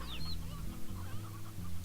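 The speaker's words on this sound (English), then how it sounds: "we have a stony hen" A stony hen clucks in Slime Rancher, its close, steady chicken calls running continuously over a low in-game ambient hum.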